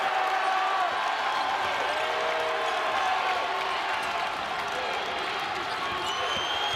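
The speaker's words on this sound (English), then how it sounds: "the crowd's starting to get into it" Arena crowd at a George Mason versus Liberty NIT college basketball game, a steady broad roar of cheering and noise throughout with a faint announcer voice underneath.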